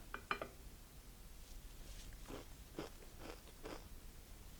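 Someone bites into a Parmesan crisp topped with super greens hummus, giving two sharp crunches up front and then a run of quieter, muffled chewing crunches, close and faint, with no talking.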